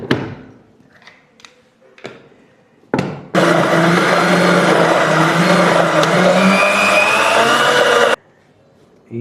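An electric blender grinds mango with sugar, starting with a few taps and thuds, then a loud, steady whirring roar for about five seconds before cutting off abruptly.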